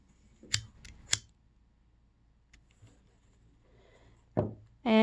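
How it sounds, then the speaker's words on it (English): Two crisp scissor snips close by, trimming off the end of a tied knot, followed by quiet handling and a few soft knocks. "but then you can just cut it off"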